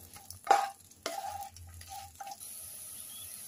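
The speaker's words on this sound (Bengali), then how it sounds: "ঢেঁড়সগুলো আমি 5 মিনিট ভেজে নেব।" Okra frying and being stirred in a pan: faint, intermittent sizzling with a few sharper scraping stirs, quiet and close, no voices.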